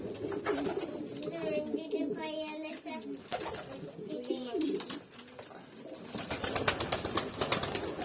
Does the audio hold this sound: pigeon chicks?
yes